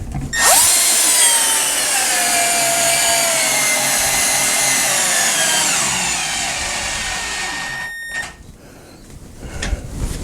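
Milwaukee M12 drill driving a screw into a wood board, a loud whirring motor with a grinding bite into the wood that slowly drops in pitch as it labors, then stops with a short clatter.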